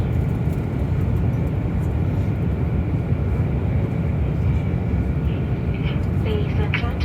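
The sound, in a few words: airplane cabin during landing approach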